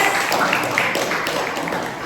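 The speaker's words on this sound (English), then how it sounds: "Can we give a clap offering to Jesus?" A group clapping together as an offering to Jesus at a street evangelism gathering in Sunnyvale, steady dense applause lasting about two seconds with voices mixed in.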